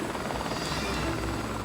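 An 1,100 kg Squirrel helicopter hovers low while setting its skids down on uneven rock, its rotor and engine giving a loud, steady, close thrum throughout the short moment.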